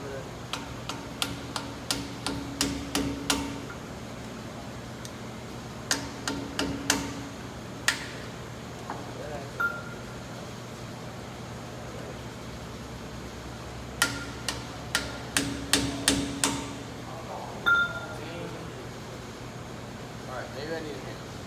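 Metal tapping of a pipe used as a hammer against a 2012 Ram 3500 truck axle, in repeated bursts of rapid sharp ticks, three clusters of strikes with pauses between, fairly close, over a low steady hum.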